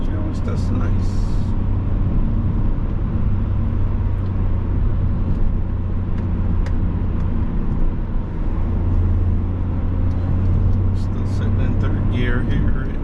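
BMW 3 Series ZHP engine pulling under acceleration on a parkway, a steady low drone with road and wind noise inside the cabin, continuous and fairly loud.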